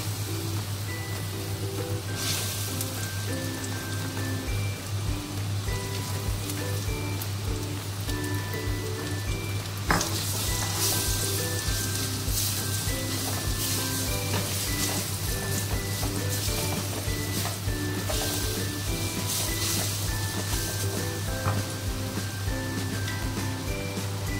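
Ground chickpea paste fries in a hot pan with oil, giving a steady dense sizzle and crackle throughout, close and even, with faint music in the background.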